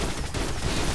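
Dense, continuous video game gunfire with overlapping rapid shots forming a steady loud barrage, like a fusillade of many weapons firing at a group of enemies, with no voice over it.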